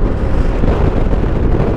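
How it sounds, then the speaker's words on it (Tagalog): Strong wind roars over the microphone during a motorcycle ride through Camarines Sur in the Bicol region. It is a loud, constant rumbling buffet that covers all other sound, with no talk. "Lakas ng hangin"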